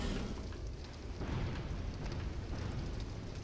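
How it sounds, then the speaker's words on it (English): Deep, rumbling explosion sound effects from the video game Dark Souls 2 roll on continuously at a moderate level, a dense low boom with no voices over it. "You hear those like explosion sound effects?"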